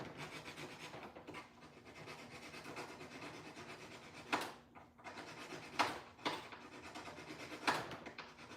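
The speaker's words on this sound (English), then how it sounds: "So I want to break these clips." Plastic clips being snapped off a sensor during a painting job, heard as a few sharp cracks and scraping rubs close by, fairly faint with no talking.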